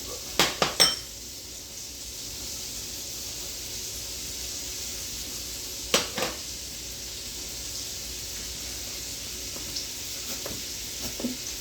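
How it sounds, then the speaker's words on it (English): Onions, green peppers and celery cook quietly in a pan with a faint steady sizzle, broken by a few clinks of a utensil against the pan near the start and again midway. "you're gonna add your green peppers and celery, and you're gonna let that cook"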